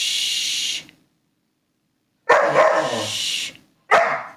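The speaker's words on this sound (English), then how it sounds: "all Bernese mountain dogs get to this stage where they just want to talk constantly" A Bernese mountain dog barks and vocalises in loud, close bursts: one long yowl, a pause of silence, then a drawn-out howling bark and a shorter final one.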